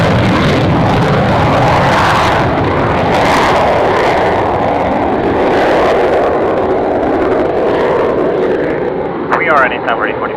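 A military jet roars loudly and steadily as it departs an airshow runway, its engine noise swelling and fading as it climbs away, with radio tower chatter talking over it.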